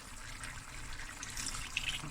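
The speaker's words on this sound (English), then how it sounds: "Enough water to cook the potatoes until soft." Water gushes from a tap into a cooking pot for boiling mash-and-bake potatoes, a steady splashing fill lasting a couple of seconds with no talk.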